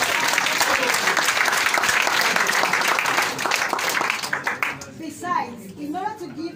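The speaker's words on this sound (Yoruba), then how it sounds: "Ẹ pàtẹ́wọ́ fún bàbá." An audience at a Yoruba community gathering breaks into loud, dense applause that carries on for several seconds and then fades, while a few voices speak and call out near the end.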